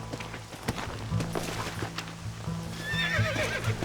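Horse hooves clip-clop at a steady gallop in the Western video game Red Dead Redemption, rhythmic and fairly close, with a horse whinnying briefly near the end over a low droning score.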